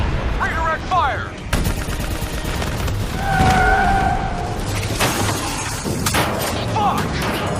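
Gunfire in a Call of Duty Black Ops 3 cutscene, heavy bursts and sharp impacts filling a noisy battle scene with vehicle rumble and shouted voices throughout.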